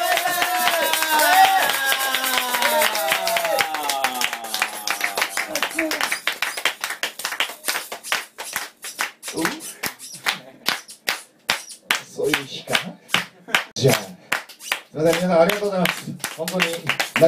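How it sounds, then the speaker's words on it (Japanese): Audience clapping at the close of a performance by a band, sharp scattered claps and crowd noise swelling in the second half after sustained musical tones fade, with voices talking intermittently. "拍手ありがとうございます。"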